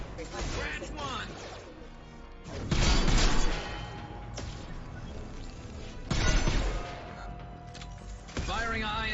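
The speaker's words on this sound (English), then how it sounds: "Firing a high impact shot." Two heavy high-impact gunshots ring out several seconds apart in a Mass Effect 2 fight on Illium, each a loud crashing blast, with a person speaking between them.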